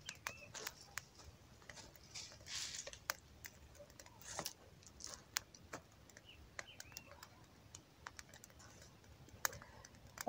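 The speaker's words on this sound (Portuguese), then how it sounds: "Aí o fogo já pegando." A small wood fire of twigs and kindling catches, giving sharp, scattered crackles and pops at an irregular rhythm over a quiet background.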